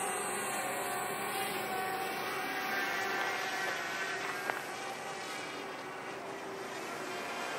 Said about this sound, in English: This is the first time I've ever flown this drone in nighttime.